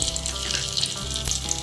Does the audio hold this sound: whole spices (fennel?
yes